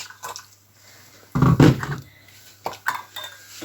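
Metal jar lids and pots clink and clatter close by in a kitchen, with a loud cluster of knocks midway and a few lighter taps afterward, some faint dripping water in between.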